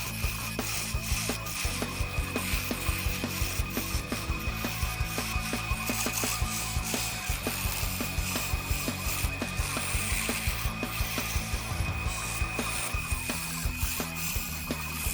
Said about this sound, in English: I'm just using my bowl gouge here.